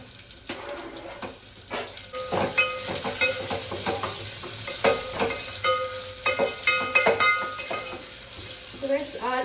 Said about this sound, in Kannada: ಆನಿಯನ್ ಸ್ವಲ್ಪ ಡೀಪ್ ಫ್ರೈ ಆಗಬೇಕು, ಸೊ ಬ್ರೌನ್ ಕಲರ್ ಬರಬೇಕು.